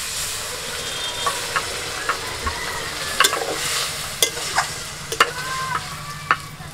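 Water poured into a hot pan of fried hupa greens, giving a steady steamy sizzle broken by scattered clinks and scrapes of stirring, close and fairly quiet with no talk.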